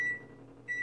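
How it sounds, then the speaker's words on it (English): An oven timer being set to 15 minutes gives two short, bright electronic beeps, one at the start and one near the end, fairly close and loud in an otherwise quiet kitchen. "Timer."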